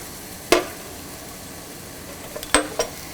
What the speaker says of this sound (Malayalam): മല്ലിപ്പൊടി ആദ്യം ഇട്ട് നന്നായിട്ട് യോജിപ്പിക്കുക.